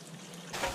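Water pours briefly into a container of sliced onion, pepper and salt for a marinade, a soft splashing trickle that starts halfway through and swells at the end.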